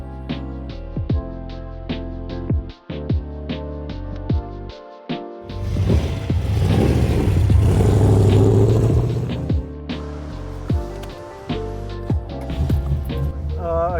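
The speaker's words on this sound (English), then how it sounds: "He's got to do the final test drive on the 64 Corvette" A 1964 Corvette on a test drive, with engine rumble and a stretch of louder acceleration in the middle amid rhythmic clicking and tapping sounds, moderately close.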